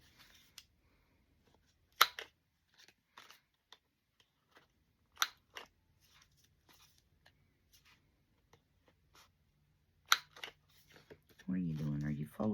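Scissors cut a paper ephemera tag in a few sharp separate snips with quiet rustling between them, then a voice starts speaking at the end.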